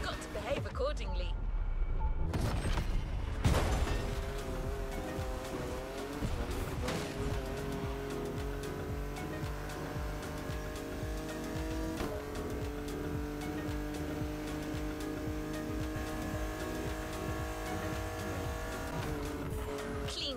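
A Porsche 911 racing in The Crew Motorfest, its engine droning steadily with shifting pitch and brief tire squeal early on, set against a continuous bed of game music and sound effects.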